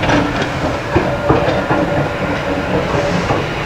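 A vintage trolley car at the Connecticut Trolley Museum runs along the track with a loud, continuous rumble and rattling wheel clatter, heard close up with no talk.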